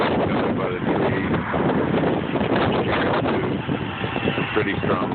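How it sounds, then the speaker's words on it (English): Strong wind gusts sweep through Manhattan near trees, a loud, continuous buffeting rush with rumbling microphone wind noise and fluctuating intensity throughout. "Right now it's kind of windy."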